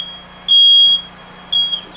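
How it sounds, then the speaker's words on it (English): A smoke alarm sounds in a bedroom setting with sharp, piercing high-pitched beeps: one long loud blast followed by a shorter second beep, over a faint steady tone. "If we hear the sound of the smoke alarm"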